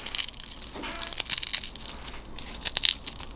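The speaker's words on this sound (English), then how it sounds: "You guys are gonna hear it crunch." Dried hibiscus flowers crunch and crackle as they are handled, a close, continuous series of dry brittle crackles and crinkles with no talking.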